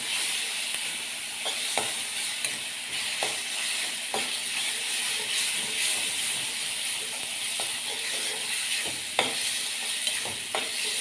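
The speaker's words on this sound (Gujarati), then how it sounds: "એને પણ એની થોડીક કચાશ દૂર થઈ જાય એટલી વાર સાતળવાનું" Ginger and green chili paste sautéing in a pan for a Kathiyawadi-style sandwich filling, a steady close sizzle and hiss with intermittent stirring scrapes and small clicks, no voices.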